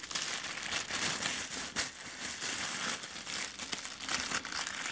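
Plastic parcel packaging from a China order crinkling and rustling steadily as it is handled during an unboxing of goods for children, close and continuous with sharp crackles throughout.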